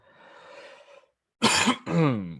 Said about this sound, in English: See, it's a cough.